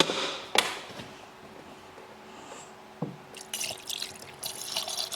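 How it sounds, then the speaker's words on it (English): Pink antifreeze poured into the radiator of a SEAT Ibiza in a garage, heard as soft, intermittent trickling and splashing with a few sharp drips and knocks, growing busier toward the end. "That's why I'm going to put my antifreeze in now."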